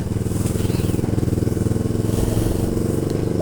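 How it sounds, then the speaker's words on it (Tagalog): A small electric fan motor turning a homemade compass arrow gives a close, steady buzzing hum with a fast, regular pulsing flutter throughout. "meron din tong makina ng electric pan yung ginagamit natin dyan"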